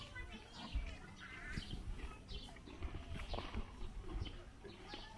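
A horse shuffles and snorts faintly nearby, with soft hoof sounds, distant bird chirps and quiet voices in the background.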